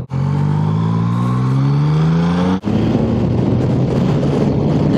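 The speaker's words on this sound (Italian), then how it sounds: "No, non esagero perché ho il motore freddo." Yamaha MT-09 motorcycle with a cold engine revs up loudly, pitch climbing in one long sweep before dropping sharply, then settling into a rough, throbbing idle close by.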